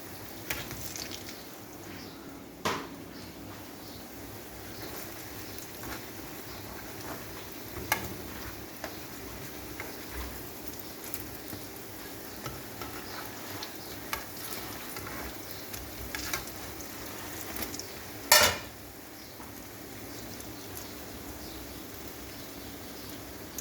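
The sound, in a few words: frying ilish fish in pan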